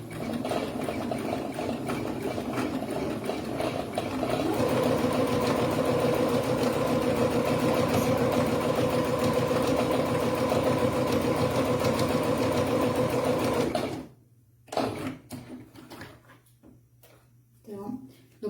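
A sewing machine stitches steadily around a garment's armhole and neckline, running continuously for about fourteen seconds before stopping, followed by a few brief handling sounds.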